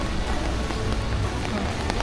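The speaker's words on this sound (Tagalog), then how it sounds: "Grabe yung ulan." Heavy rain pours in a dense, steady hiss, loud and close throughout, at an amusement park with faint voices underneath.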